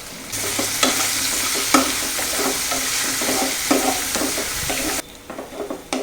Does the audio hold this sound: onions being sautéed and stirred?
yes